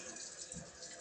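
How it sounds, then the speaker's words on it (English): Hot tap water runs steadily for washing with soap, a close, continuous hiss of flowing water that lasts about a second. "we get to wash and rinse with hot water"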